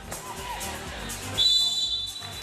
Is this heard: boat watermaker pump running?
no